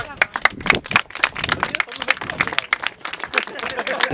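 A small crowd claps for the winner of a car rally, with brisk, uneven hand claps running steadily for several seconds and voices mixed in.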